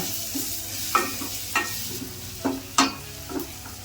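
Chilli powder and garam masala frying in oil for a palak chana curry, a steady sizzle with a few sharp stirring scrapes and clinks against the pan, close and moderately loud, no voices.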